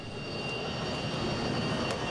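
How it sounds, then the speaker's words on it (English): An A-4 Skyhawk two-seat Navy jet training plane roars with a steady, loud engine drone and high whine, continuous and unbroken with no voices. "the A-4 Skyhawk, with an extra seat for an instructor, is serving its last years in the Navy as a training plane"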